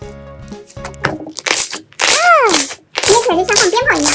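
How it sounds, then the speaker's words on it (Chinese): Large foaming slime being squeezed between the fingers gives off sharp, firecracker-like crackling bursts in a couple of dense clusters, mixed in with someone talking close by. "捏起来就像放鞭炮一样，好响啊"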